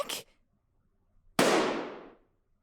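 A single loud gunshot in a dramatic audio scene, preceded by a short sharp burst, then a sudden blast that decays over about a second, with no talking.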